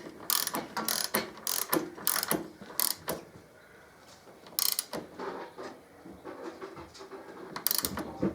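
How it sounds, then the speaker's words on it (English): Torque wrench ratcheting as it tightens the swingarm bolts on a 2005 Electraglide, with bursts of sharp metallic clicks in quick runs separated by short pauses, close and fairly quiet. "So I've set the torque wrench to 45 foot-pound."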